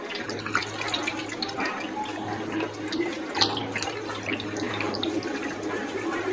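Boiling water pours steadily from close by over macaroni in a casserole dish, a continuous splashing wash of liquid with no talking.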